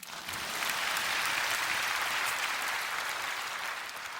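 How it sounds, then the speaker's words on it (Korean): A church congregation applauds at a prayer meeting, a dense, steady clapping that swells in and holds evenly for several seconds with no voices. "왜 박수 안 치세요?"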